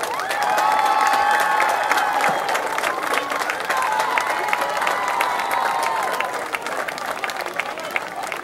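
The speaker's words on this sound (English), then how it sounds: "our cheerleaders are going to cheer them on as they join us" Cheerleaders cheering and a crowd applauding at a football field dedication, sustained clapping with high shouts and whoops over it, steady and moderately loud throughout.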